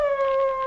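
Dogs howl in a radio drama sound effect, a sustained, mournful tonal wail that holds steady and fairly loud for under a second, with no voices.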